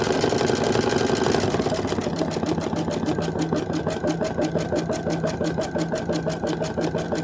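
A sewing machine runs steadily and fast, stitching a quilted sunflower wall hanging in a rapid, even mechanical patter that stays close and loud throughout, with no talking over it.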